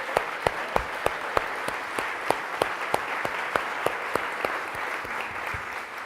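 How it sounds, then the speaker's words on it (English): Gala audience gives a round of applause, a sparse, even clapping with distinct individual claps in a steady rhythm, moderately loud and with no speech over it. "Can we give her a round of applause?"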